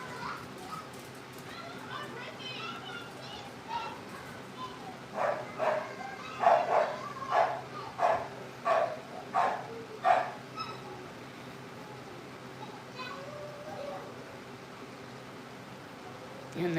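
Dog barking in a busy household with children playing, several sharp barks in a cluster mid-clip over steady background chatter and noise, moderately loud and slightly distant.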